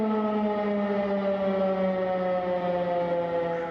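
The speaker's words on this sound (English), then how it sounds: "Sunrise and sirens." An air raid siren wails steadily from a distance at sunrise in Ukraine, a sustained mournful tone holding its pitch throughout.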